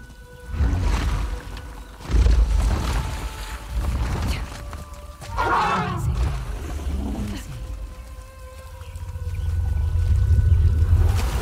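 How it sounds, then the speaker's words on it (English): An elephant in Uncharted: The Lost Legacy lets out deep rumbling bellows and one rising trumpet-like call, loud and close, over low game ambience. "It's an elephant."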